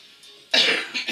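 A single sharp, close cough bursts out after a moment of near quiet, followed by a softer trailing breath.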